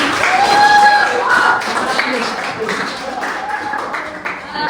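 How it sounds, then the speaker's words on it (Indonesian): Applause from a group, steady clapping through the whole stretch with some voices and faint tones mixed in. "kita kasih tepuk tangan dulu untuk pembukaan"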